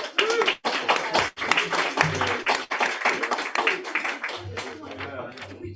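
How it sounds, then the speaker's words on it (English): An audience applauds after a poem at a poetry reading night, with dense, lively clapping that fills the room and holds steady for several seconds before thinning slightly. "We go by the clapometer. That was the loudest clap."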